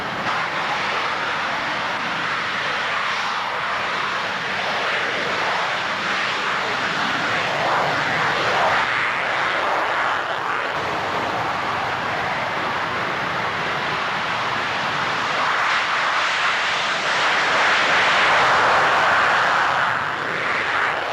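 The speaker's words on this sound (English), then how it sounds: "Just coming off the end of the runway to your right, you'll see 4 MiG-21s, one well clear forward of the others." Several MiG-21 jet fighters taking off at the Fairford air show in 1993, a continuous loud broad jet roar that holds steady and swells slightly toward the end as the aircraft climb away.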